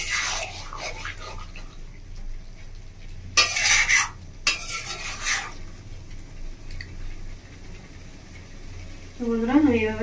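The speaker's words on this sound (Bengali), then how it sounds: "বন্ধুরা আমি এভাবে কষতে থাকবো।" Chicken kosha sizzles in a pot while being stirred, with bursts of louder frying and scraping, metal clinks, and a voice speaking over parts of it.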